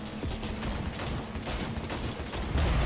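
Rapid gunfire in a Cyberpunk 2077 video game gunfight, dense bursts of shots rattling continuously at close range, with no talking.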